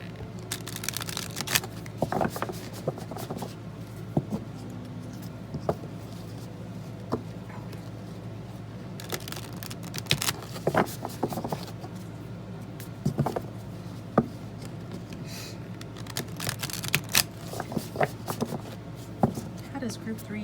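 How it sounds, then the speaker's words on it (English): Tarot cards are shuffled in repeated soft riffling bursts, with a low steady hum behind and a person speaking between them. "I'm going to shuffle the cards."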